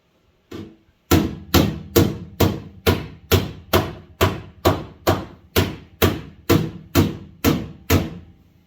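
Hammer blows strike the high spots of a filled car rear quarter panel, about fourteen sharp, evenly spaced metallic thuds in a steady rhythm, close and loud, with no talking.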